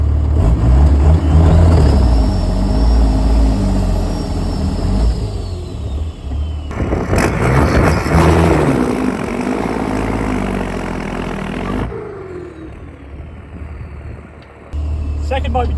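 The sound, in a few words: Cummins diesel limo doing a burnout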